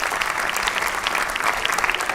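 Dense, steady audience applause at a comedy show with Komeng, a continuous wash of many hands clapping at even loudness throughout.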